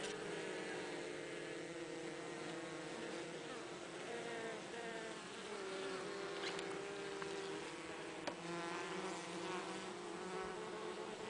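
Honeybees buzz steadily inside beehive number 4 during the active summer honey harvest, a dense continuous hum with layered tones, close and constant, with no talking.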